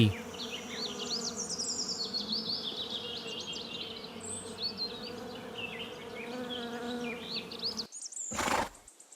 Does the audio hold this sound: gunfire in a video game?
no